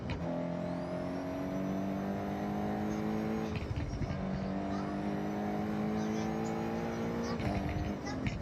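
Race cars in the video game Forza Horizon 6 roar through a race, engine tones climbing and shifting in repeated accelerating sweeps, steady and loud throughout with a voice talking over it.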